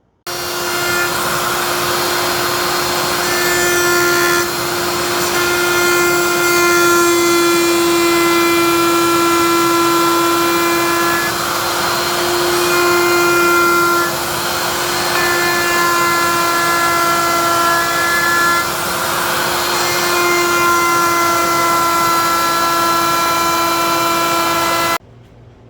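Loud, continuous electric router whine holding a steady tone while shaping custom door panels for a square body Chevy truck, with slight surges in pitch and no voices over it for about 25 seconds.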